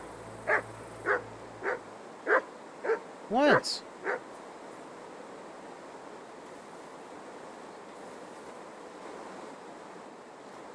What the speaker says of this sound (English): Dog, what are you barking at?